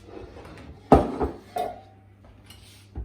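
A 10-inch bundt pan is picked up and set down while baking sour cream coffee cake, giving a few sharp metallic knocks and clatters spaced through a quiet kitchen.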